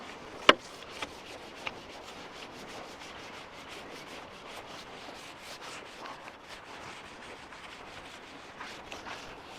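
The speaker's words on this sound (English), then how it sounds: "This is quite a soft bristle brush, so obviously you don't want to damage the panels." Soft bristle brush scrubbing solar panels on a narrowboat, a steady close rubbing swish that runs throughout, with a couple of brief sharp knocks near the start.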